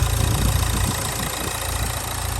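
A Nissan Juke's engine idles steadily with a constant low rumble and faint rhythmic knock, close and fairly loud, with nothing else heard.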